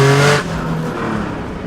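Engine of a full carbon fiber Bugatti supercar, a loud close rumble with strong harmonic tones for the first fraction of a second, then easing to a steadier, quieter drone.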